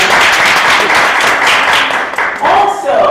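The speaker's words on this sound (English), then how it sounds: "Give her a round of applause." Audience at a women's empowerment event breaks into loud applause, dense clapping that thins briefly near the end as a voice speaks over it.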